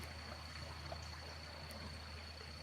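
A rising river flowing steadily nearby, a continuous broadband rush of water with faint trickling detail and no voices.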